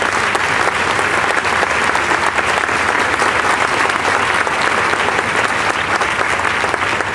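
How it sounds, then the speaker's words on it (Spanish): Loud, sustained applause from a large audience at the Lima film festival awards ceremony, a thick continuous wash of clapping that holds steady for the full stretch without pause or speech. "pido un fortísimo aplauso"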